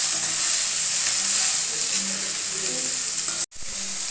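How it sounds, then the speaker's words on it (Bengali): Tomato, carrot and chopped onion fry in oil for pasta, making a loud, dense, continuous sizzle close at hand, with faint stirring beneath and a brief cut near the end. "ভাজতে হবে টমেটোটা আর গাজরটা। এরপর আমরা অ্যাড করে দেব পেঁয়াজ কুচি।"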